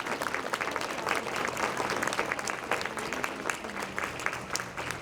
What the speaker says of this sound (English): Let's give all three panelists a wonderful applause.